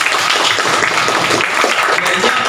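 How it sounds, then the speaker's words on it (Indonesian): Dense, loud applause from a classroom of students during a differentiated-learning lesson, a continuous wash of clapping throughout. "tepuk tangan untuk Pak Dia."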